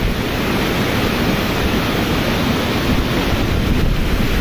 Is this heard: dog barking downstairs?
no